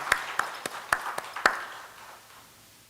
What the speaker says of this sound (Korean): 우리 귀한 말씀으로 은혜를 끼쳐주신 이름교회 부목사님이신 윤세광 목사님께 박수 한번 보내주시기 바랍니다